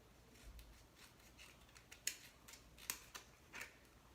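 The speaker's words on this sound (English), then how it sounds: "I like to trim it with the adhesive shaped sheet on there just a little bit so my scissors don't get all sticky." Scissors snip through an adhesive-backed shaped craft sheet, with a few faint, sharp cuts spaced irregularly in a quiet room.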